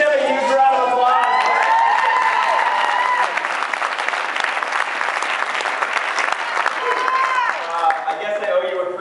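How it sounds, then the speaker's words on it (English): Audience applause with cheering and whoops at a live comedy show in Portland, Maine, loud and sustained, with crowd voices shouting through the clapping. "You guys give them a huge round of applause."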